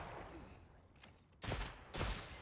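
Two loud booming light bowgun shots in Monster Hunter, about half a second apart, each with a brief roaring tail, after a quieter stretch.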